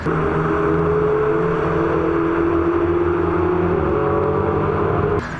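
A steady loud engine drone with a sustained whining tone from racing cars circling the Zandvoort circuit, continuous with no talking.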